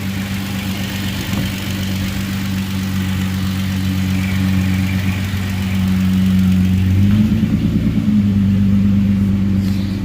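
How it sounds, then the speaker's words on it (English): A Hyundai Genesis with a swapped 3.8L engine idles at its first start-up, a steady, loud, close drone that rises slightly in pitch partway through and holds. "This is just a big startup for the first time on this Genesis."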